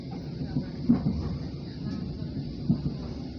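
The KA Dharmawangsa passenger train rolls along rails near Bekasi at night, a faint, steady rumble with a few soft clacks and thumps from the wheels and carriage, heard from inside with no talking.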